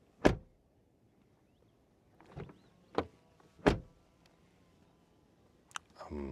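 Doors of a Mercedes GLE SUV shut one after another, several sharp, solid thumps separated by quiet gaps, with faint mechanical clicks and latch sounds in between and a final closing at the end.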